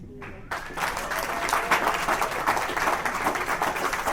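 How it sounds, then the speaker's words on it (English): Audience applause at an awards ceremony bursts in after a brief quiet moment and then holds as a dense, even wash of many hands clapping, moderately loud. "So we give her a clap for my wife."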